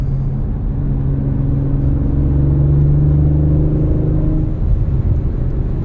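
A 2021 Audi RS5 Sportback engine rumbles and revs in a steady low drone through the exhaust in dynamic mode while downshifting, swelling slightly before easing off near the end, with no talking.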